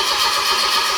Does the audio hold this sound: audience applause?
no